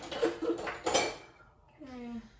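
Cutlery and dishes clink and clatter in a kitchen drawer as a teaspoon is fetched during dumpling making, a few close metallic rattles mixed with people talking nearby.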